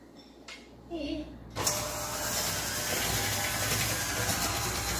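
An electric mixer creams a sugar mixture for s'mores cookies. A brief voice comes first, then the motor switches on with a sudden loud, steady whir that holds close and even to the end.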